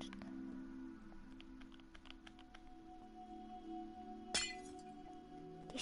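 Glass shatters in a single brief, bright crash, preceded by faint scattered clinks and ticks in a quiet room.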